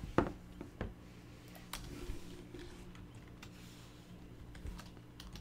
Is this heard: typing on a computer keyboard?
yes